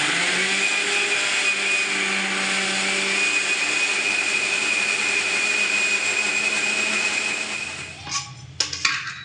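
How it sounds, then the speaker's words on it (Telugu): A kitchen mixer grinder blends rava dosa batter with water in a loud, steady high whine for about eight seconds, then cuts off with a few clattering knocks of the jar. "ఇప్పుడు ఇది చక్కగా మిక్సీ పట్టుకుందాము."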